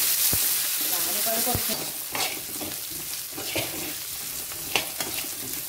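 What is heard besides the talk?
sliced onion frying in oil with mustard seeds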